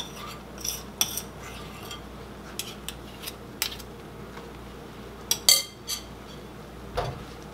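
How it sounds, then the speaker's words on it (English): A spoon stirs dough into a pot of Southern-style chicken and dumplings soup, giving scattered light clinks and scrapes against the pot over a quiet background, with no talking. "I'm adding in the last bit of my dough, and I'm going to give it another stir"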